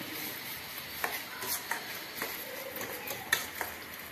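Ingredients for lemon leaf rasam being mashed in a pot: quiet scraping and stirring with soft irregular knocks and a few sharp taps of a utensil against the metal, close and faint, with no voices.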